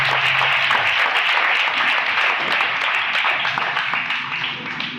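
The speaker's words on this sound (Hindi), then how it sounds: "जोरदार तालियां बजाएं।" A church congregation at a Hindi-language Christian service bursts into strong applause, thick and close clapping held at a high level before tapering off slightly at the end.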